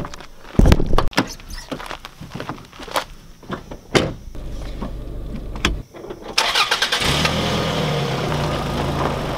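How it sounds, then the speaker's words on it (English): Car doors clunk shut amid sharp handling knocks, followed by an engine cranking and starting, then settling into a steady idle as the vehicle prepares to drive off. "So it's time to get in the car and drive over there."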